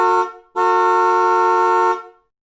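Car horn honking twice, a short blast then a long sustained one of about one and a half seconds, loud and close with no other sounds.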